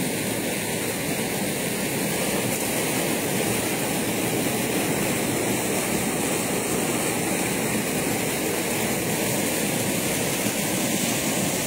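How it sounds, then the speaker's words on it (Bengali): River water rushes at speed from a lock gate into the river, churning up white foam: a loud, unbroken roar that holds steady for the whole stretch, with no voices. "এই লক গেট থেকে নদীর জল স্পিডে আসছে নদীতে"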